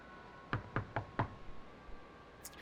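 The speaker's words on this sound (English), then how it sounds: "Stop knocking, please." Four firm, evenly spaced knocks on a door in the 1953 film Niagara, followed by a few softer taps in a quiet room.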